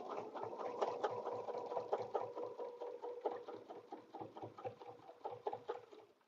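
A sewing machine stitches a quilted table runner in quick rhythmic bursts of mechanical chatter, close and fairly quiet, with slight pauses between runs.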